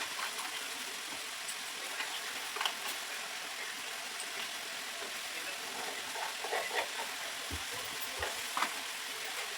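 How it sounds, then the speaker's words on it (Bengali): Spinach being stirred in a frying pan for a Bengali pui shak chorchori, with turmeric and salt added; a steady soft sizzle runs throughout, with scraping stirs and a few brief clinks near the end. "একটু নাড়াচাড়া করে দিই।"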